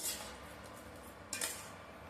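A carrot halwa mixture with sugar is stirred in a pan, producing faint scraping and a couple of soft clinks of a spoon against metal.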